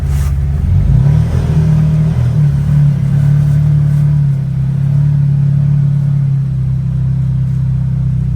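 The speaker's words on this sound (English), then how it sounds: "I'll put her in 6-wheel drive with front diff lock and all that good stuff, and away we go." Six-wheel-drive vehicle, front diff lock engaged, revs its engine loudly and pulls away, a steady close rumble of acceleration running throughout with no talk.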